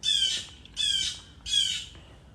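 A blackbird gives three harsh, evenly spaced alarm squawks outdoors, each a short loud burst with brief gaps between.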